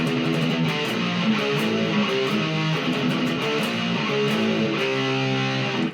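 Distorted electric guitar chugs through a metal riff of power chords, steady and loud, played alone without voices.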